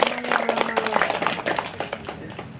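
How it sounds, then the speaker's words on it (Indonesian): Clapping from an audience at a literacy event award announcement, a steady patter of many hands going for about two and a half seconds, moderately loud. "Tepuk tangan dong."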